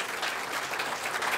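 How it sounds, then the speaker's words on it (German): Dense, steady applause from a crowd at a political rally, a continuous wash of clapping held at an even level throughout the short stretch. "Euer Applaus, eine Riesensache."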